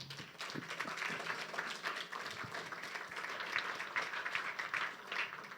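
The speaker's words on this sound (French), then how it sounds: "On applaudit bon Dieu encore." Church congregation applauding during an evening Bible-reading worship service, a steady dense wash of many hands clapping together that carries on evenly throughout, with no voices heard over it.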